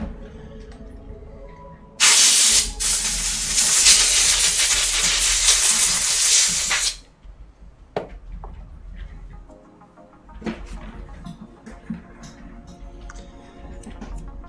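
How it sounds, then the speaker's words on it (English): A spray can blasts paint onto a model tank in one loud, continuous hiss lasting about five seconds, with a brief break near its start, followed by quieter handling clicks and taps. "I think this bit needs the spray can"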